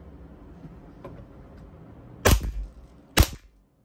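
Two sharp, loud shots from a WE G17 GForce series gas blowback airsoft pistol, about a second apart, each with a brief slide clack and short tail after a quiet stretch.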